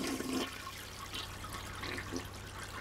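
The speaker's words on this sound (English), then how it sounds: "We'll do a quick toilet flush." A toilet in an abandoned cabin with a neglected septic system flushes, giving a steady close rush of water that runs through the whole moment with faint trickling, and no voices.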